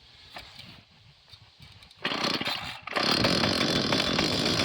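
Small gasoline garden engine running after the choke is switched off, a quiet idle that jumps to a loud steady drone, dips briefly, then holds a strong continuous buzz.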